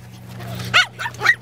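Small fluffy Pomeranian dogs give two or three short, bright yips close by over a low steady hum.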